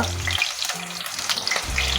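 Brinjal slices frying in hot coconut oil, a loud, close, bubbling hiss with some watery crackle throughout a short stretch.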